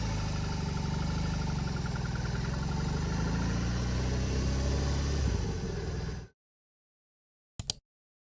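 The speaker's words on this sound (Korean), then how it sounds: "이 차의 장점은 펄스감 넘치는 엔진입니다" BMW R18B bagger motorcycle engine idling with a steady, deep pulsing rumble for several seconds before cutting out, followed by a short sharp noise after silence.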